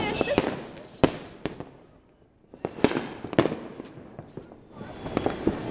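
New Year's Eve fireworks in a hometown village pop in several sharp, scattered bangs, with a whistling rocket at the start and crackling in between. The bursts are fairly close and separated by short lulls.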